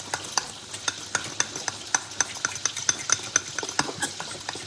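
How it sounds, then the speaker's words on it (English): Pasta for a carbonara gets stirred in a pot, giving a steady run of light, sharp knocks and scrapes with a soft bubbling bed beneath, heard close up with no voices. "Can I stir your pasta?"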